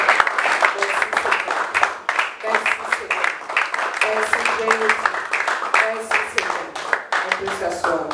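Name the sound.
congregation applauding in church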